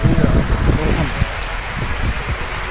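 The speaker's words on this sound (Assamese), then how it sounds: "আজি মানে ভিডিঅ'টো আৰম্ভ কৰাৰ লগে লগে বৰষুণটো ষ্টাৰ্ট হৈ গ'ল।" Steady rain patters loudly on a surface nearby, a constant dense hiss with scattered heavier drops.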